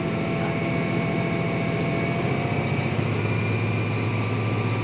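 A tractor engine idles steadily nearby, a constant low chugging drone with mechanical hum, unbroken throughout.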